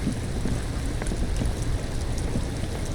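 Steady rain ambience in the detective game Disco Elysium, a constant dense hiss of falling rain with faint low rumbles underneath, even and unbroken throughout with no speech.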